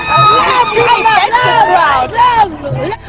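A crowd at a rally in Libya chants in loud, rhythmic unison, many voices rising and falling in a repeated refrain close by.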